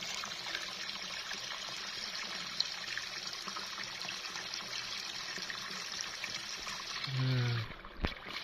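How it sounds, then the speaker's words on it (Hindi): Cold, clear stream water flows among the giant boulders at Panjpeer Rocks, a continuous close trickle and gurgle running throughout, with a brief louder splash near the end. "इतना मज़ेदार और इतना साफ़ पानी, और कोई पता नहीं है कि कहाँ से आ रहा है कहाँ से जा रहा है"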